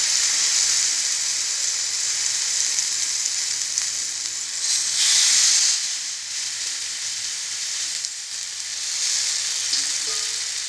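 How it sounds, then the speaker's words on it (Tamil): Vanjaram fish fries in oil on a hot dosa griddle, giving a loud, continuous hissing sizzle that swells and eases over several seconds with no talking. "இப்போ வந்து ஃபிஷ்ஷை மேலே ஃப்ரை பண்ணிக்கலாம்."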